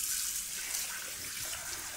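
Boiled rice is drained through a colander with hot water, giving a steady, moderate hiss and splash of pouring water that runs the whole time without talk.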